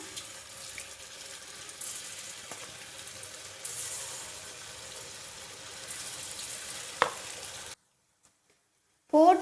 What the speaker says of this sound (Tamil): எண்ணெய் சூடாயிடுச்சு. இப்போ நம்ம வந்துட்டு ஒவ்வொரு பீஸாக எடுத்து இந்த மாதிரி சேர்த்திக்கலாம்.